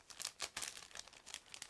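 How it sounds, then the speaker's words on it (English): A plastic bag holding model kit parts for a 1/35 scale Leopard tank kit is cut open close up, giving faint, irregular crinkling and rustling in several short bursts. "I'm going to cut through this plastic bag and we will take a look."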